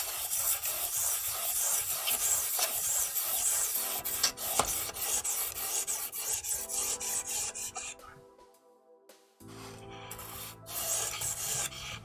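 A knife blade is drawn steadily across a 1500 grit sharpening stone, producing continuous close rasping and grinding strokes. The strokes pause briefly and then resume.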